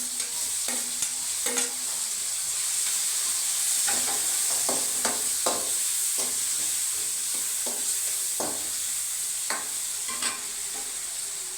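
Tomato pieces and onions frying with salt in a pan for a gongura fish masala curry, a steady close sizzle with repeated stirring scrapes and clinks throughout, no voices.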